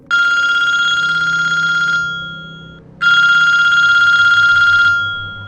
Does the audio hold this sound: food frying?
no